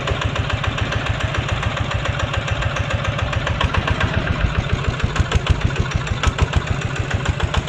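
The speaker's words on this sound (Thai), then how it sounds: "เครื่องยนต์14แรงนะครับ" A 14-horsepower Kubota 140 Plus engine idles steadily with a fast, even chugging pulse, loud and close, running alone throughout.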